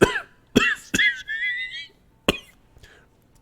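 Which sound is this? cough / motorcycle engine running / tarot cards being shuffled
cough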